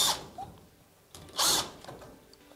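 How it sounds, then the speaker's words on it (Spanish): A power drill drives a screw into a plasterboard (Pladur) frame while a sliding-door pocket frame is installed, with two short, loud whirring bursts separated by a quiet pause, close up. "Es que vamos a meter un tornillo aquí."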